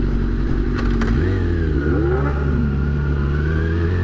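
A 2009 Kawasaki ZX-6R sport bike engine pulls away from a stop, a loud close rising whine as the revs climb smoothly through the gears after a brief idle and clunk.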